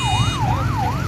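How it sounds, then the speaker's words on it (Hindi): An ambulance siren wailing loud and close in a rising-and-falling sweep during a street protest, with traffic rumble underneath. "एम्बुलेंस भी पहुंच आई है।"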